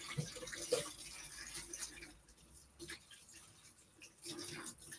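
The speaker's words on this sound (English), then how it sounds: "let me wash my hands" Hands being washed under a running kitchen tap during cooking, a faint, uneven wash of water with soft splashes and a few brief clinks, fairly quiet throughout.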